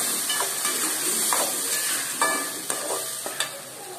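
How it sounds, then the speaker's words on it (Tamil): Ground tomato puree sautéing in a hot pan for egg masala, giving a steady close sizzle and hiss, with a few sharp spoon scrapes and stirring knocks against the pan, and no voices. "இப்போ நம்ம அரைச்சி வச்சுருக்கிற தக்காளியை சேர்த்துக்கலாம். இதையும் நல்லா வதக்கிக்கோங்க."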